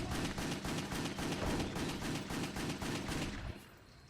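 Gunfire in the action video game Wet: rapid, continuous automatic shots in a dense, loud rhythm that stops abruptly near the end, leaving a quieter tail, with no talk over it.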